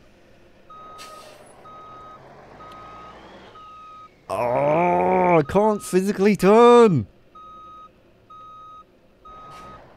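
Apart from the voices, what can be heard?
truck reversing beeps in BeamNG Drive video game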